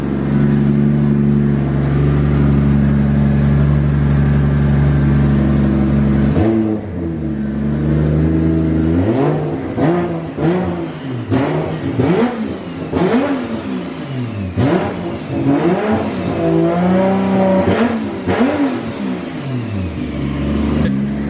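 A warmed-up BMW E21 engine idles with a steady low rumble, then is revved repeatedly, the pitch sweeping up and falling back in a series of sharp bursts.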